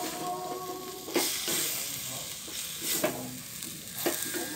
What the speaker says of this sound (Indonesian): Setelah bumbu matang dan warnanya berubah menjadi agak gelap, masukkan irisan jantung pisang.